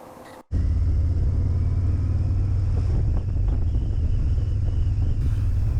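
A 2025 Harley-Davidson Road King on a test ride roars into a loud steady engine rumble after a brief quieter start, heavy wind buffeting the microphone throughout with no talk.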